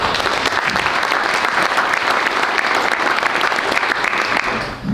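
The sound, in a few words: audience applause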